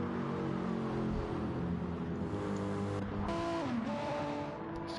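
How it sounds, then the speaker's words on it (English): BMW GT3 race car in a racing game at Road Atlanta, a steady droning engine held at high revs through a turn, with a brief pitch dip and rising shift partway through and some tire noise. "BMW coming through turn number 1 this time."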